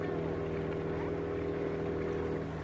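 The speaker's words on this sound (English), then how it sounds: "Look at that boat." A steady low motor drone from a boat on Lake Titicaca, continuous and fairly close, with no talking.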